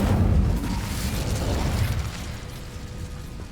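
An Incendio fire spell in Hogwarts Legacy erupts in a loud, close burst of crackling flame that rumbles and roars, then tapers into a lingering fiery hiss.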